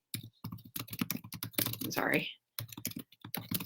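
Fast typing and clicking on a computer keyboard, with quick bursts of close keystrokes broken by a short pause. A voice briefly speaks partway through.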